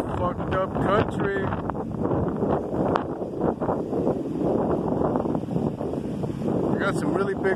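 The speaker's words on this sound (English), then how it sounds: "It's really windy. I'm sure you can hear the hissing sound." Strong beach wind hisses and roars across the microphone without a break, loud and rough, on a windy seashore in Venezuela with big waves. Voices are partly audible beneath the gusts.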